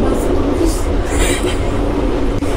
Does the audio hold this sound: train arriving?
yes